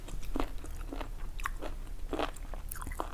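Crunchy bites of crispy food at a Thai meal of grilled beef, several sharp crackling crunches spaced at irregular intervals, close to the microphone over quiet background noise, with no talking.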